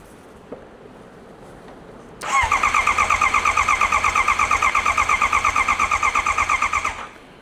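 Honda CBR650R motorcycle engine cranking without catching: a steady, rhythmic starter whir with regular pulses for about five seconds, then stopping, after a quiet start with no talking.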